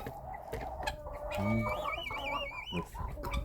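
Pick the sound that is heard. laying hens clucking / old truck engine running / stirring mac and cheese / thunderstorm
laying hens clucking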